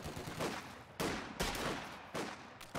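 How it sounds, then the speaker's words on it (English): Machine-gun bursts from an MG42 in Company of Heroes 2, with three sharp volleys of rapid fire separated by short gaps, loud and close, without talk. "MG42 firing away, suppresses down that Pathfinder"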